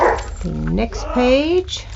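A person talks while a dog's yips and whiny barks sound close by, overlapping the speech.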